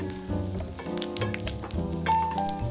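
Fennel seeds, cardamom and cinnamon fry in a pan while a potato curry is cooked, giving a soft crackling sizzle with small pops under faint background music, no voices.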